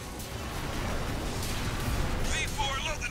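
Missiles strike and explode in the mech combat game Armored Core 6, producing a continuous, rumbling barrage of blasts with bright crackling bursts toward the end, partly under a voice.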